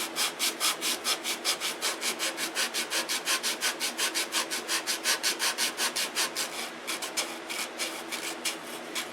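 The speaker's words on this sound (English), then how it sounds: "it only took just a few minutes to sand that out. And what I do is I glue sandpaper on my fingers." Hand sanding of a coat of finish on a model aircraft cowling, using sandpaper glued to the fingertips, giving a steady rhythmic back-and-forth rasp with quick regular strokes, close and alone.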